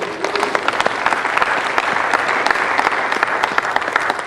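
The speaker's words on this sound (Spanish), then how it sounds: "Denle un aplauso fuerte al Señor" A church congregation breaks into loud, sustained applause, a dense crackle of many hands clapping at once, close and full, with no pause.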